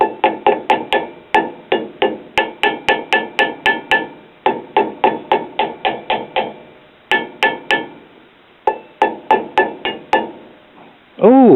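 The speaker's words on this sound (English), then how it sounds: "let's tap on the neck of the CRT and see if the vibration of the filament will make enough contact to weld it back together." Sharp glassy taps on the neck of a 1955 Motorola 17-inch black-and-white TV picture tube, struck in quick repeated runs with short pauses between groups. The taps are close and bright.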